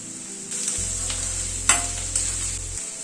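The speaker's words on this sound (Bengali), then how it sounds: "আদা রসুন পেঁয়াজ কাঁচা লঙ্কা সবকিছুকে একটুখানি ফ্রাই করে নিচ্ছি।" Chopped ginger, garlic, onion and green chilli fry briefly in a pan, a close, bright hiss of sizzling oil with a couple of stirring clinks and a low steady hum underneath.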